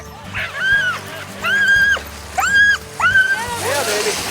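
Sled dogs at a local mushers' race in northwest Montana, with 6, 8 and 12 dog classes, give repeated high whining yips and howls in short bursts against a low rumbling background with a voice underneath.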